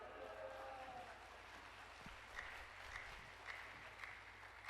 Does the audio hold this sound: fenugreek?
no